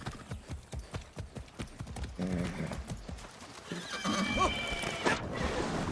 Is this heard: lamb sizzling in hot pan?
no